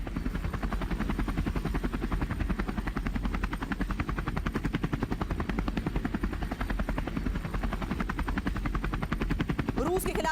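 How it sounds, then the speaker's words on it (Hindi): Mi-8 helicopter in flight during an attack in Ukraine, a steady dense rotor chop with a constant engine roar throughout, loud and continuous, with faint voices underneath. "MI-8 हेलीकॉप्टर से हमले यूक्रेन कर रहा है।"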